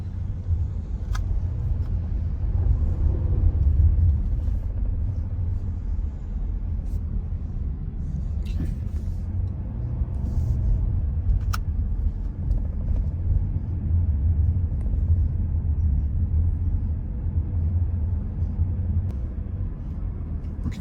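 A car drives south along Gulf Drive on Anna Maria Island after Hurricane Helene, a steady low road rumble and engine drone from inside the vehicle with a few faint clicks.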